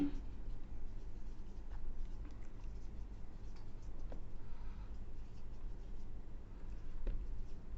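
A formula being written by hand, pen or chalk scratching in short soft strokes and taps over a low steady hum, with quiet speech present at times.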